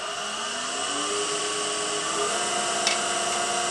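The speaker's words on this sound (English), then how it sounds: "I'm going to start off with a rough out gouge, a spindle roughing gouge." A wood lathe spins a wine stopper blank while a spindle roughing gouge cuts it, giving a steady, even whine with a bright hiss layered on top that holds for the whole stretch without any voices.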